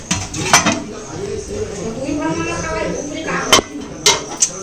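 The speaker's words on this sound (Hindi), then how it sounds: "अम्मा ह बर्तन ला साफ कर रहे" Steel dishes and utensils are washed at home, with scattered metallic clinks and clatters under soft background chatter and running household noise.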